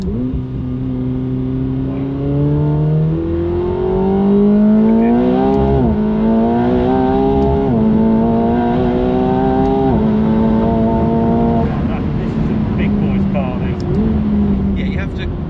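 A McLaren 750S accelerating around a race track on a lap, heard from inside the car: loud engine roar climbing in pitch through the gears, with shift breaks and revs rising again, continuous and close.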